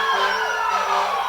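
Fire engine siren sounding at a nighttime Christmas parade in Harriman, loud and continuous with a wailing, sweeping pitch that fills the whole stretch, joined by steady engine and crowd noise.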